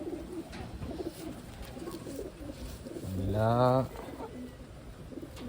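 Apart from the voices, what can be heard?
pigeons cooing, Taiwan racing pigeons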